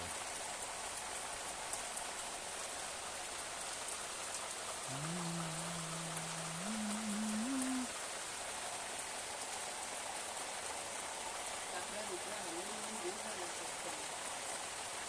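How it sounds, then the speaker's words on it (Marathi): Heavy unseasonal rain falls steadily in a Konkan farmyard, a constant hiss of drops on the ground and surfaces, with a faint low voice briefly audible beneath it. "हा बघा पाऊस किती आहे."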